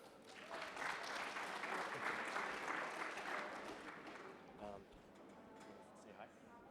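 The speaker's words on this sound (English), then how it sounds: "So give a round of applause for Sergey today." Conference audience at a blockchain event in Brussels applauding as a speaker takes the stage; a soft, distant wash of clapping that fades toward the end, with faint voices coming through.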